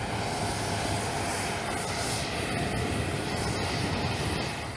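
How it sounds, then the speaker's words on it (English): Air Force One airplane landing and taxiing, a steady broad roar of jet engines, loud and continuous, with no voices. "Air Force One is the only plane landing and taxiing"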